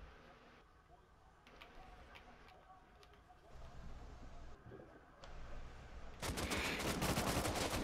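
Video game gunfire comes in as a loud, rapid automatic burst near the end, after a quieter stretch of low background noise and faint clicks.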